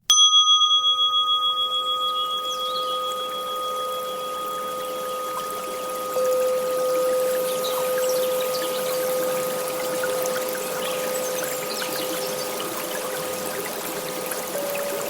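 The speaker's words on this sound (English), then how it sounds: "I have a bed of like a river, a little babbling brook. I've got some bird noises. I've got those wind chimes going." A meditation sound bed of a babbling brook with soft birdsong and ringing wind chimes: bright chime tones ring out and fade at the start, then gentle steady trickling water carries on quietly with faint sustained tones above it.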